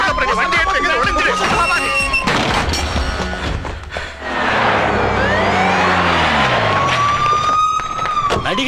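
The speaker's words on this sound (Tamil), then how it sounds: "ஏய் சைரன் ஆஃப் பண்ணு." A police car siren wails loudly in a Tamil film scene, rising and falling sweeps up close mixed with dramatic score and other effects.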